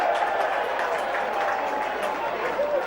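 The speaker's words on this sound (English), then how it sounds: "that's Ben Davies getting a good round of applause" A rugby league crowd at a Whitehaven versus Workington match applauds player Ben Davies, a moderate, fairly distant patter of clapping under a commentator's voice.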